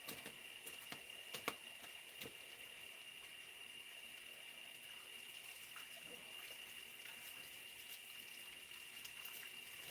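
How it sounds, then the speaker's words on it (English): Tap water runs steadily as dusty hands are washed on an outdoor patio, a continuous soft hiss and patter with a few brief clatters near the start. "now my hands are all dusty, so I'll wash them off"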